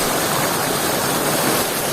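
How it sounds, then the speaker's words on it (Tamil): A fast-flowing irrigation canal near Pimburaththewa in Polonnaruwa rushes loudly and steadily, a close, dense wash of water with no voices over it. "பாருங்கள் இவ்வளோ அழகாக தண்ணி போயிட்டாங்க. அவ்வளோ ஸ்பீடாக போய்ட்டு பாருங்கள்."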